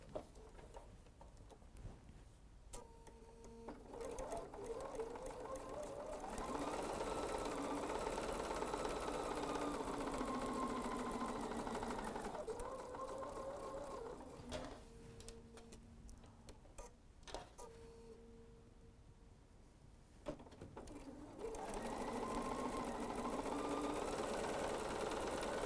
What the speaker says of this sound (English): We're going to be sewing on the line again.